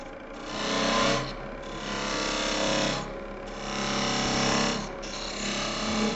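A woodturning tool cuts a recess into a spinning potpourri disk on a lathe, a steady whirring drone with rising and falling scraping swells as the tool pushes in and eases off, no talk.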